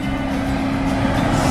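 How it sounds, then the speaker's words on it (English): A truck passes on a road beside the Camino Primitivo pilgrimage route, a loud, steady, close rumble that fills the whole moment with no break. "Sorry about the noise, it's a truck."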